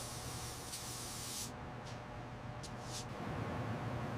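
A spray gun lays a primer coat on a 1933 Dodge truck with a steady, close hiss, broken by a few brief breaks in the spray.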